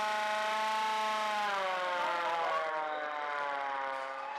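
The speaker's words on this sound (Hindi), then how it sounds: "खान मार्केट में मॉक ड्रिल के तहत सायरन बजाया गया" A civil defense siren sounded during a mock emergency drill at Khan Market, a loud wailing tone that rises in pitch and holds steadily, alone with no voices.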